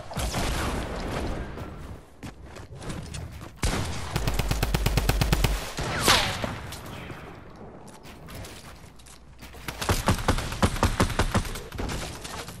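Shooter video game gunfire: long rapid automatic bursts of sharp, loud shots with thuds and mechanical clatter between them, broken by brief pauses.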